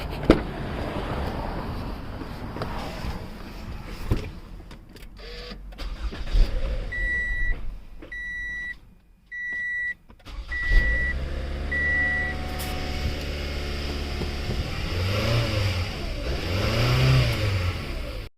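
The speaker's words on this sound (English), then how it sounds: "Now I'll go ahead and start the car." Toyota car engine starting after a throttle body replacement, cranking and catching, then idling and revving in several rising surges, close and loud, with a string of short electronic beeps partway through.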